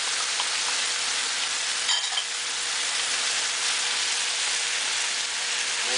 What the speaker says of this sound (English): you stir fry it for a couple of minutes, maybe even more